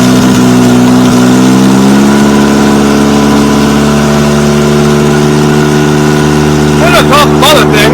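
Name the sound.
Toyota Tercel car engine starting up and idling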